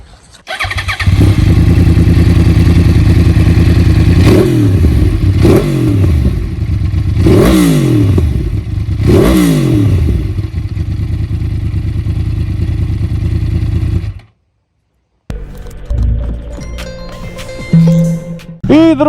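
A 2012 Yamaha R1 Big Bang motorcycle starts and idles loudly, revved hard several times with sharp rising and falling sweeps, then cuts out briefly before a quieter stretch of clattering and mechanical handling.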